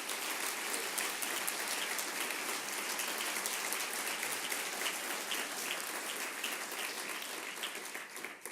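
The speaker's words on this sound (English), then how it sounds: "Let's give her a round of applause." A large audience applauds steadily at an Italian American heritage presentation, a dense, even roar of clapping that holds throughout and eases slightly at the close.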